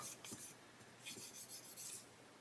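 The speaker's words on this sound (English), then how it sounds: "Just sand that away." Quiet, rhythmic rasping strokes of sandpaper rubbing a small plastic model kit part, in two short bursts close by.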